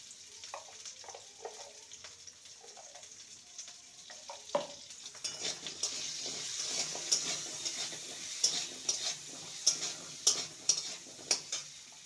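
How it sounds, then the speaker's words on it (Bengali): Potatoes frying with turmeric and salt in a pan, a quiet sizzle at first swelling into a louder hiss as a spatula stirs and taps against the metal in irregular strokes, close up. "আলুগুলোকে 2 মিনিট নেড়ে নেব।"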